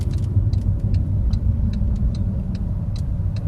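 A car rolls slowly during a brake test with Kido Racing big brakes, a low steady engine and road rumble close by, with faint regular ticks repeating over it.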